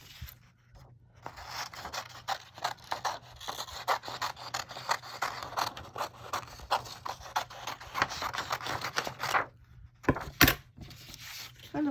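Scissors snipping through purple paper: a rapid run of close, crisp cuts and rustles, followed by a short pause and a couple of final snips.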